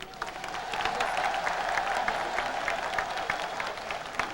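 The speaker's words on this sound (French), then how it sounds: "Que l'écho de ces vibrations retentisse en applaudissements patriotiques." Patriotic applause from a crowd at a political ceremony, sustained dense clapping with a faint steady tone underneath, moderately loud and even for several seconds.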